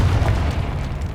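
A Confringo fire spell explodes in Hogwarts Legacy, a loud, deep, sustained rumbling boom that fills the whole moment without a break.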